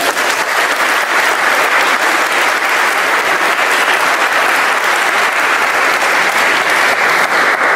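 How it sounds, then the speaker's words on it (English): A large audience at an interfaith iftar dinner gives a sustained round of applause, loud and dense, a continuous roar of clapping hands that holds steady throughout. "please give them a round of applause"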